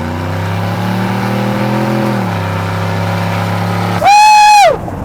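A lifted, squatted truck with a custom lift kit and turbo accelerates hard with its tires spinning: a loud, rising engine roar that drops pitch around two seconds, then a sharp high whine near the end.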